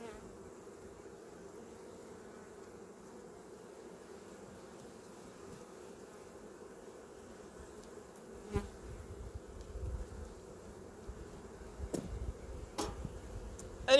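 Bees hum in a steady, quiet drone around a beehive as they are cleared off the top, with a few sharp knocks and bumps in the second half as the buzzing grows slightly busier.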